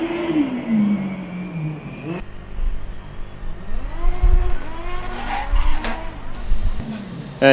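A Formula Student combustion race car's engine rises and falls through gear changes at an autocross, with squealing, grinding braking noises and a cone stuck in the front right suspension, heard at a moderate distance with cuts between moments.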